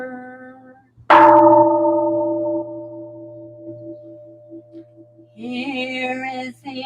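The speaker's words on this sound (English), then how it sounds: "Here is the after sound of the bell." Zen temple bell at a Buddhist Sunday service, struck once loudly, its bright clang settling into a long, steady humming after-ring that slowly fades; a sung or chanted tone enters near the end.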